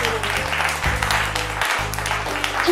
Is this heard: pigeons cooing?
no